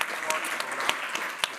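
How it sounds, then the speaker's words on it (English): Applause from an audience at a museum talk welcoming a guest, a steady wash of clapping with a few sharp, close individual claps standing out, a faint voice briefly underneath. "Please join me in welcoming our guest with a second warm round of applause."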